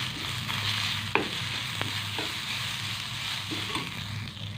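Small onions with one dried red chili and one green chili sauté in a pan for hotel-style sambar, with a steady low sizzle and occasional scraping taps from a stirring spoon, close and fairly quiet.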